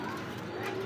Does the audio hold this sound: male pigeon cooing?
yes